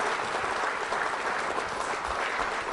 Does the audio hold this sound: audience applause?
yes